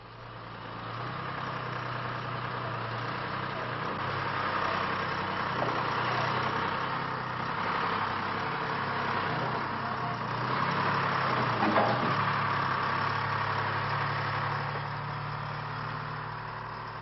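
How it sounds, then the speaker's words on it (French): A 1937 Renault truck engine idles steadily at close range, a low continuous rumble with a constant hum that holds level throughout, with no talk over it. "Mais c'est un camion Renault, voyez-vous."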